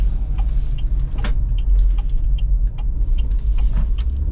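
Modified Ineos Grenadier SUV cruising on the road with a tire slightly low on air, its steady low engine and road rumble continuous and close, with faint rattles and clicks inside the cabin.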